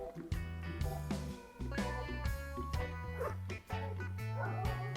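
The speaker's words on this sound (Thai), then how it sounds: "ไม่เลิกเห่าอีกเลย" A dog in the survival game Stranded Deep barks again and again in quick yipping bursts, loud and close, with some whimpering tones between the barks.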